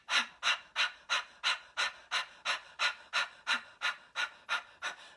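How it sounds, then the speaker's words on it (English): Rapid, evenly spaced panting breaths pushed out through the mouth in a yoga breathing exercise, about fourteen sharp exhalations in five seconds, close and steady with no talk. "which you're pulsing at the stomach and breathing out in short pants through the mouth, which helps to energize the body."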